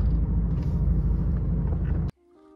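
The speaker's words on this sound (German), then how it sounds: "Und jetzt hören wir uns mal den Motor an." A convertible car's engine runs steadily with a loud, continuous low rumble close to the recording, then cuts off abruptly near the end, leaving quiet.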